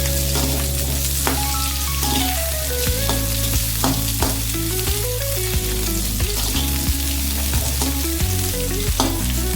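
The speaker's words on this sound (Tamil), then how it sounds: "பெரிய சைஸாக கட் பண்ணி லைட்டாக வதங்க." Large-cut onion pieces sauté in a pan for tomato chilli chutney, giving a continuous, steady sizzle with scattered crackles. Melodic background music plays under the frying the whole time.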